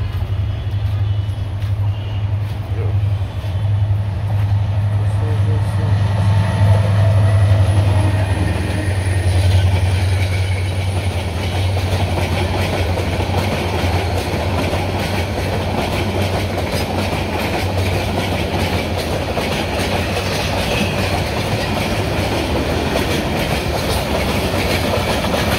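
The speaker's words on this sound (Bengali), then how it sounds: "দেখেন কত জোরে যাইতেছে ট্রেনগুলো" A train passes at speed along a busy rail line where trains run one after another: a loud, continuous rumble and rattle of wheels and cars holds steady and close throughout, with no pause.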